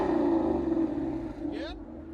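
A Ford Mustang GT with a 5.0 Coyote V8 and straight exhaust with a double X pipe rumbles in a deep, steady drone nearby, with someone talking over it.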